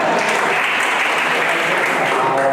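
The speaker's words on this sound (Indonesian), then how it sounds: "boleh tepuk tangan" A seminar audience at a GKI church in Indonesia, gathered on marriage agreements and Christian marriage, breaks into dense, continuous applause, loud and even throughout with some voices mixed in.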